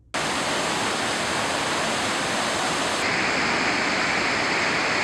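The rising River Nyamwamba rushes past gabions along its banks, a loud, dense, continuous roar of flowing water heard up close without any talk.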